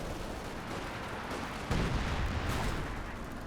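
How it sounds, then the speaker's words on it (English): Artillery fire in Company of Heroes 2, a steady roar of battle noise with a heavy booming impact partway through, followed by rumbling explosions. "Artillery seems to be hitting his own men."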